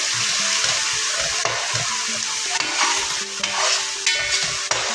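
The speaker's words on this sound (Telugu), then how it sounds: "పచ్చివాసన పోయే వరకు ఇలా కలపాలండి." Fish curry masala for Andhra-style chepala pulusu being stirred in a pan, a steady scraping and mixing with faint sizzle throughout, close and continuous with no talk.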